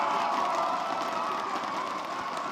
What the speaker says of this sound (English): the crowd erupts